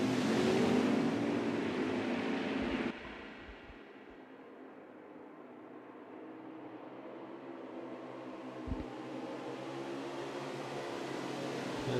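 Race cars on the Watkins Glen road course at turn 10, a loud roaring pass up close that drops away abruptly into a distant, steady engine drone.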